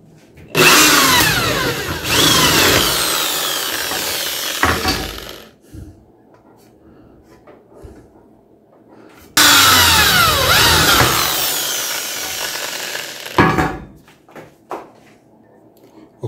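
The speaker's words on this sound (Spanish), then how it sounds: "Vamos a hacer los agujeros aquí en el centro para poder fijar ahora los tapones." Power drill boring holes through the centres of PVC caps for a homemade TV antenna, two long loud whirring runs of about five seconds each, with small clunks and handling noises between them.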